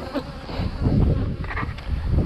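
Honey bees buzz around closely in a continuous, fluctuating drone, several insects humming at once with rustling in the background.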